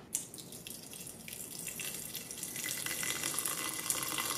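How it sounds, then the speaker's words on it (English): Water runs from a tap into the inner pot of an Aroma 20-cup digital rice cooker, a steady splashing stream that grows fuller as the pot fills, close and fairly quiet with no voices. "water filled a tiny bit over the five mark line"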